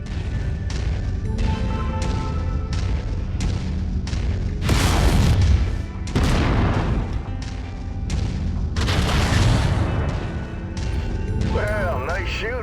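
Mech weapons firing in MechWarrior 5: Mercenaries, a rapid series of heavy booming shots with several louder blasts and mechanical clanks, close and continuous, with a voice speaking briefly.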